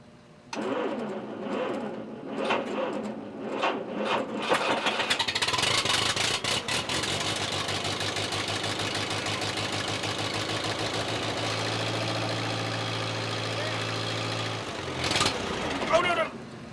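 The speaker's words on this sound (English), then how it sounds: "I'm gonna go ahead and let the tractor warm up for a while" Allis Chalmers tractor engine cranking, then catching and settling into a steady, close idle while warming up on a cold snowy day, a low throbbing drone that cuts off near the end, with brief talk at the start.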